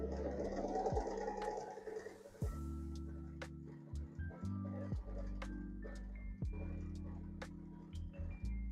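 A sewing machine stitching a pumpkin quilt block, its motor running in steady bursts with brief pauses between seams, close and fairly loud against a low hum.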